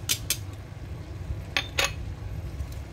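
A spoon knocks against a pot of Filipino rice porridge, lugaw, while it is stirred. A couple of quick metallic clinks come early, then two more after a pause, over a low steady background hum.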